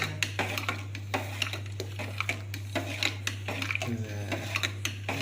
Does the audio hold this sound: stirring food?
yes